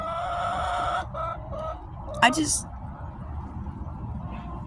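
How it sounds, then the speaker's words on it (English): Backyard chickens clucking in short bursts close by, with other birds and steady outdoor background noise, and a sharp louder call near the middle. "Look at my birds."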